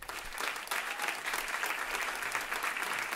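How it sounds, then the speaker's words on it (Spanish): A jazz concert audience applauds to welcome a trumpeter, producing a short burst of steady, fairly distant clapping from the crowd. "Un aplauso, por favor."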